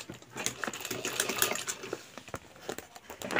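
A sewing machine stitches a bag made from a fertilizer sack, a quick, uneven run of close mechanical clatter and ticking that stops and starts in short bursts.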